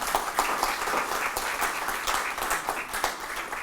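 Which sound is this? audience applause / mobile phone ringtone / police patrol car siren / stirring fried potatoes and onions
audience applause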